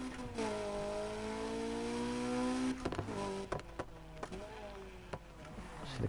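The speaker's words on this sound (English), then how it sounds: "So the car sounds are amazing." A car engine in Need for Speed Heat drones and rises in pitch as it revs, then shifts through gears with sharp clicks and bumps, with a game-like feel.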